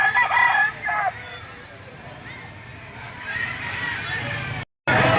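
Rooster at a chicken market crowing twice in quick succession, fairly close, among people talking and a low background rumble.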